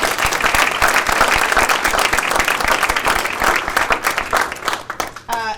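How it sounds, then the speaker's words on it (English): An audience at a morning award ceremony gives winners a strong round of applause, loud dense clapping that holds steady and then tapers off near the end. "Let's have another round of applause for all of them."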